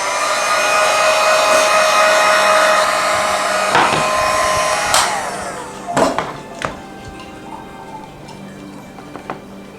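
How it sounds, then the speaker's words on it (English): A heat gun blows a loud, steady rush of hot air onto a craft tile frame, then cuts off, followed by a few sharp clicks and knocks of handling. "Now I am going to use the heat gun this time to kind of get it all situated."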